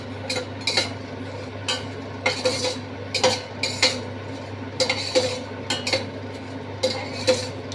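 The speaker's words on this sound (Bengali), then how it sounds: "আমি ওই যে গরম গ্যাস আছে তাইতেই আর কি আমি এটাকে নিম পাতাটা নাড়ানাড়ি করছি" Neem leaves with tempering spices are stirred in a hot pan after the gas is switched off, producing irregular metallic clinks and scrapes of a utensil against the pan over a faint steady hum.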